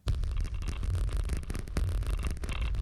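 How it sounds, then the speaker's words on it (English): A Geiger counter effect set within a music piece about an alien planet: dense, continuous crackling and rapid clicks over a low droning bed, steady and loud throughout with no talking. "So I thought of this Geiger counter."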